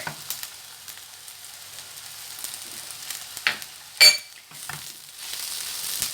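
Mushrooms sautéing with onion, dried tomatoes and garlic in a pan, giving a light steady sizzle with close stirring scrapes and a sharp utensil clink partway through.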